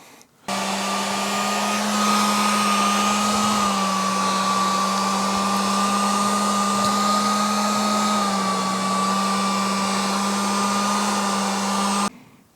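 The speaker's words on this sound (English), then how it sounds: "So I'm gonna hit it with a heat gun to see if it holds that shape." A heat gun blows steadily on a plastic CNC71 angle kit, a loud continuous whirring hiss with a fixed motor hum that starts abruptly, runs unbroken for about eleven seconds and cuts off, with no talking.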